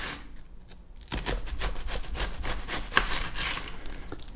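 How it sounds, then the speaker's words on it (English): A knife slices down through an onion on a cutting board, a quiet burst of close rubbing, chopping strokes after a brief near-silent start, with no voices. "Then I just cut down the face of the onion."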